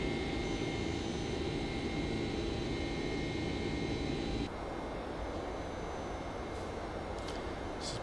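Flight Factor 767 jet engines in the X-Plane 11 simulator give off a steady, dense cabin drone in cruise climb. The roar drops slightly in level partway through and then carries on evenly, with no talk.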